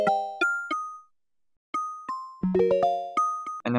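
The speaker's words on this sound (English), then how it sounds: "you could kind of hear this music box feel to it, in the higher harmonics especially" Synthesized plucky bell keys with a music-box character ring out in short bright struck notes, a pause, then a quicker run of chiming tones with a lower pad entering at the end, clean and close with no voices.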